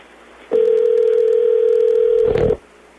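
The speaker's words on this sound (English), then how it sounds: "Calling in right now on the phone line here" A steady telephone dial tone sounds on a phone line while calling in to a radio show, holding loud and unbroken for about two seconds before cutting off abruptly, with no talk over it.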